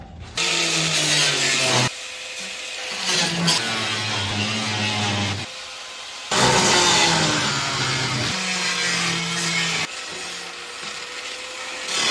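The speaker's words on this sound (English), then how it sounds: "let's get the grinder and cut these off" An angle grinder cuts off rusted flathead bolts on a VW Karmann Ghia: a loud, close, buzzing whine comes in about four long passes, its pitch shifting as the disc bites the metal and easing briefly between cuts.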